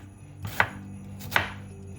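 A knife chopping onions on a board, two distinct crisp cuts about three-quarters of a second apart, close and fairly quiet against a low hum.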